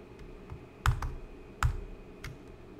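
A few distinct clicks of typing on a computer keyboard while text is entered, spaced irregularly across a quiet room, with two louder keystrokes standing out among softer taps.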